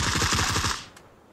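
Rapid automatic gunfire in the battle royale game PUBG, a fast burst of closely spaced shots that cuts off abruptly, leaving only faint background noise with no talk.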